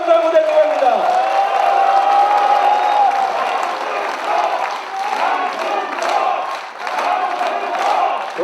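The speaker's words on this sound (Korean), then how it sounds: "다시 한번 커다란 박수 한번 보내드립니다" A crowd at a book launch breaking into applause and cheers, with a voice talking over the start before a dense clatter of clapping and scattered whoops fills the room.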